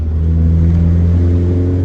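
A 1981 Dodge Challenger engine drones loudly and steadily as it accelerates, a deep rumbling hum close by with no talking.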